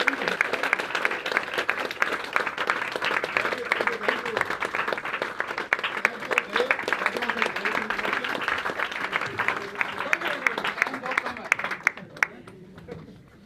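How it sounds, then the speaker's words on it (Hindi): An audience at a live event gives loud, sustained applause for about twelve seconds before it dies away, with a voice heard over the clapping. "फ्रेंड्स, तालियां बड़ी जोरदार होनी"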